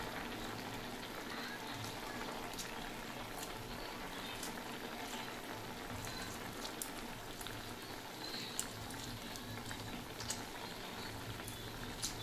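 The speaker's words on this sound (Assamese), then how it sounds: "ঢাকি দিম আৰু এইদৰে লাহে লাহে বইল হৈ থাকিব।" Taro boiling slowly in a covered pot on a low gas flame makes a quiet, continuous bubbling and patter, with small irregular pops scattered through a steady simmer and no voices.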